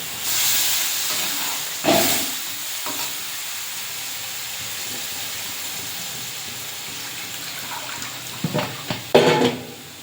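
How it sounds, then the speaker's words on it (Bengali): Water hitting a hot pan of fried tangra fish curry with potatoes sets off a steady sizzling hiss, with a few louder clatters and stirring bursts near the start and end; no talking. "কষানো হয়ে গেছে, এবারে জল দিয়ে দেবো।"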